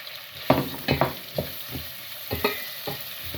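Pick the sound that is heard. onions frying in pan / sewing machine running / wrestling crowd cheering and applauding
onions frying in pan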